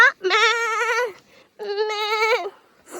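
A male goat bleats loudly and close up, two long wavering cries separated by a short pause.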